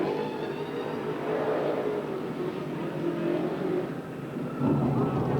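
A super late model race car idles and revs at a dirt oval after a win, its engine drone mixed with the roar of spinning, smoking tires and a swell of throttle near the end, with a commentator talking over it.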